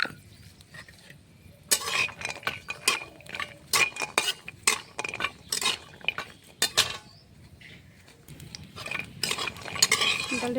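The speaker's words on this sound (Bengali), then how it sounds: "ডালের বড়ি কটা ভেজে নেব তেলে" Lentil dumplings (dal bori) fry in mustard oil in a kadai, with a steady low sizzle under repeated close clinks and scrapes of a utensil stirring against the pan.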